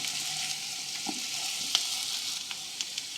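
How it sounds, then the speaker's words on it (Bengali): Potatoes frying in a pan for a mint potato dish, an even sizzle with several sharp clinks and scrapes of a spoon stirring, close and without speech. "আরও তিন থেকে চার মিনিট অনবরত নাড়াচাড়া করে আলুগুলোকে লালচে করে ভেজে নিয়েছি"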